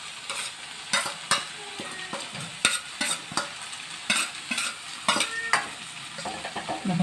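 Dried shrimp being stirred into a sizzling vegetable bhaji in a pan, with a steady frying hiss broken by repeated sharp scrapes and clinks of the spoon against the pan.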